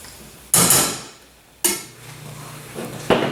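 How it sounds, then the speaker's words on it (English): A hammer taps three times, sharp and close, with pauses between, seating the carrier housing into a J. C. Higgins Model 10 rifle during assembly. "It might need a little help from a little tap from the hammer maybe"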